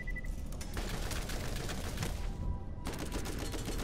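Rapid, sustained gunfire from automated turrets in the Borderlands video game, a dense unbroken barrage of shots with booming low end that continues steadily for the whole span, loud and close.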